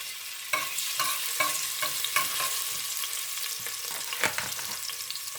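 Garlic frying in canola oil as a steady hiss and sizzle, punctuated by a series of soft scraping stirs, close and moderately quiet throughout.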